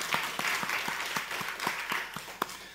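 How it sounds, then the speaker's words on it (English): A small audience claps at a media forum panel, the individual claps sparse and distinct rather than a dense roar, moderately loud and steady for a few seconds. "So now you can applaud them."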